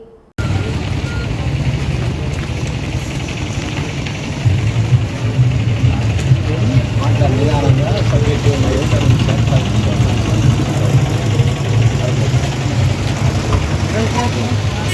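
Motorcycle engines idling and revving at a youth bike rally for Chhatrapati Shivaji Jayanti after a brief pause, a steady low rumble with some voices mixed in.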